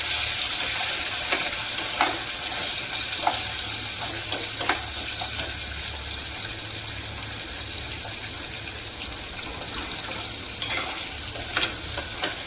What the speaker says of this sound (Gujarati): સિંગને થોડીક વાર તેલમાં થવા દેવાની છે।